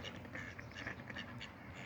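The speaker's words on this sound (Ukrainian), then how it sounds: "Ось так, підкормили трошки качок і поїдемо далі." A group of ducks and drakes in Poland quack repeatedly in short, nasal bursts, fairly faint and a little distant, with no talking.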